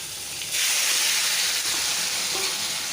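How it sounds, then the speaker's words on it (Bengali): Vegetables dropped into hot oil with panch phoron in a wok, setting off a sudden loud, steady sizzle that holds for a couple of seconds with no talk, cooking for a Bengali fish-head mixed-vegetable dish. "কড়ার পাঁচফোড়নটা গরম হয়ে গেছে এখন আমি এই সবজিগুলি দিয়ে দেবো"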